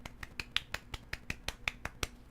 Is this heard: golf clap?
yes